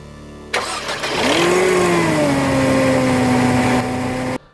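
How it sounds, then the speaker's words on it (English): A Mercedes W203 C200 Kompressor, with a newly replaced serpentine belt, cranks briefly and catches. Its revs flare and then settle into a steady, loud, whining idle that runs close by until it cuts off. "Now I'm gonna go ahead and start the engine."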